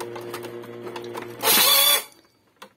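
An Epson inkjet printer (L-series such as L550, L360, L3110) with a paper jam fault grinds and whirs through its mechanism, then gives a loud harsh burst near the end before stopping with a faint click; close by, no talk.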